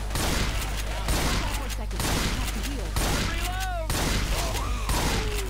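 Rapid gunfire in Left 4 Dead 2 on the Dead Center campaign at Expert difficulty, dense bursts and shots continuing throughout with game effects, and a player briefly speaking over it.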